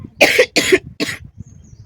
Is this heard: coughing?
yes